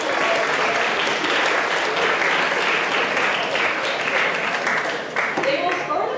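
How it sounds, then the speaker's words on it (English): An audience at a school spoken word poetry finals applauds the judges, with dense, sustained clapping filling the room from start to finish and tapering slightly near the end. "Please give them a round of applause."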